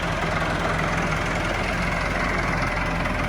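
A tractor engine idles steadily in a village, a continuous low rumble with a faint knock that holds at the same loudness throughout, close by and with no talking.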